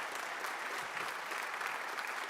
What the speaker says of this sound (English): You can give yourselves a round of applause.